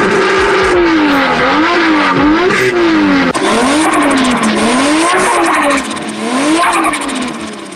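Loud car engines rev and whine in rising and falling waves while tires squeal through drifting slides in Japan, a continuous roaring run with no talking.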